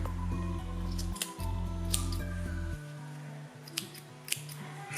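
Scissors snip through knitted tassel string on a dress made with an Addi Express knitting machine, giving a few sharp, close cuts over a steady low machine hum.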